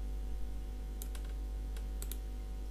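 Typing on a computer keyboard while working on a design: a few sparse, light clicks in small clusters over a steady background hum.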